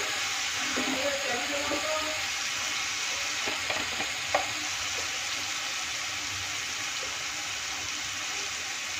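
Garlic paste and spices sizzle steadily in a pan over low heat for a soya chunk curry, with occasional stirring scrapes and clinks over the continuous frying hiss.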